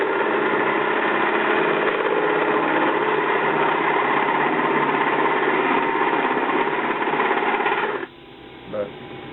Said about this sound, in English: But I do like the treadmill motor works pretty well.